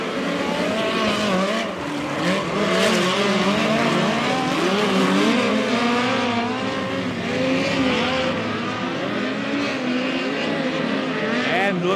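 Midget race cars roar around the Valley Speedway dirt oval, their engines rising and falling in pitch as one car slows, loud and continuous beneath a commentator's voice.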